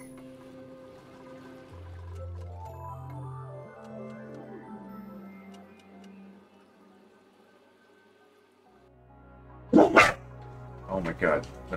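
Dogs bark in two short loud bursts near the end, following a long stretch of layered ambient game music and effects inside a base in Oxygen Not Included.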